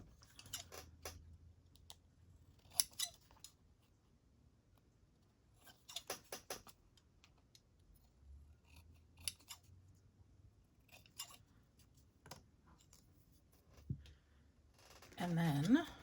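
Scissors trimming small paper craft pieces, a series of short crisp snips scattered through a quiet room, with a brief rustle of handled paper near the end.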